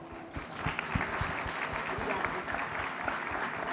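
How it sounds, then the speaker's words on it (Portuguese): Audience applause at a health talk, steady dense clapping with a few sharper claps standing out, moderately loud and continuous throughout. "isso já merece uma salva de palmas para eles que estão aqui"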